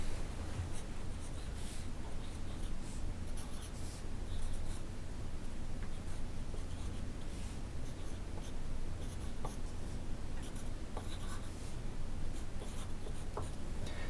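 A pen scratches numbers onto a paper circle to draw a clock face, with steady continuous scratching and rubbing for about fourteen seconds, close and fairly quiet against a faint room hiss.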